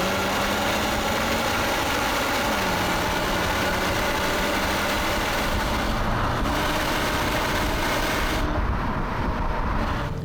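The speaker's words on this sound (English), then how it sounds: "you've got that big 5-cylinder engine mounted transversely up front" A Volvo V40 T5 with a transversely mounted five-cylinder engine runs steadily, giving a loud, continuous low drone and hum that stays even and close throughout, with no talking.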